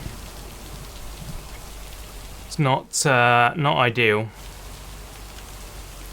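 Steady rain falls outdoors in a soft, continuous hiss, while a voice talks briefly over it in the middle.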